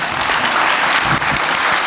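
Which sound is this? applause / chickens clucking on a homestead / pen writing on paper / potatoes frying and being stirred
applause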